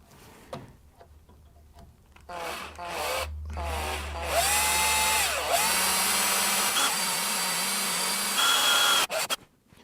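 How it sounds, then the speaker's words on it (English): A power drill spins up and grinds into the head of a metal split pin on a 2007 Ford Ranger track rod end, its pitch dipping and straining under load, then cuts off abruptly near the end. "centre punch the head of the split pin and then drill it"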